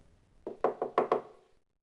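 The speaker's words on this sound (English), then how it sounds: "He knocked again" Five firm knocks on a wooden door in quick succession, close and dry with short gaps, followed by silence.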